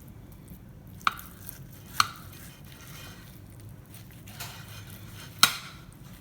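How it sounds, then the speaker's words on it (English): A knife slices through a stuffed pork loin with olive salad and cream cheese, giving a few sharp, separate cutting clicks over a low kitchen hum, with the strongest one near the end. "now I'm gonna cut a slice of it"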